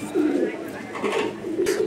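Fancy pigeons for sale coo in soft repeated low murmurs, close by, with a little background noise between calls.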